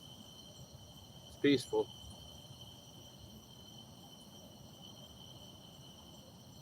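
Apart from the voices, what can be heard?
crickets chirping at night by the river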